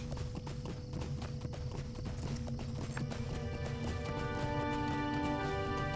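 Horse hooves clip-clop at a quick, steady pace in Lord of the Rings Online, a dense run of sharp, close clacks with a whinny partway through and game music rising toward the end.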